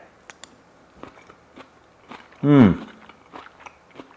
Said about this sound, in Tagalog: So may crunch pa ng konti yung ampalaya.